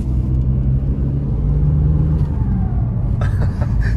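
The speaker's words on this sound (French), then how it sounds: "J'adore ce bruit de turbo." Remapped diesel VW Golf turbo heard from inside the car: a steady low engine rumble with a faint rising whistle, then a brief burst of higher noise near the end, no talking.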